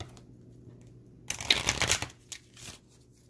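A deck of tarot cards is shuffled by hand, one quick riffling burst of papery flutter and slaps in a quiet room, followed by a few softer taps as the cards settle.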